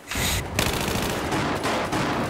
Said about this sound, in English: I just shot that motherfucker's face right off